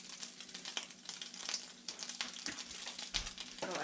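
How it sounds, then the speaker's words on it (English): Steady crackling and hissing of bacon frying in hot oil, with scattered sharp pops over a continuous sizzle. "See, it's already sizzling."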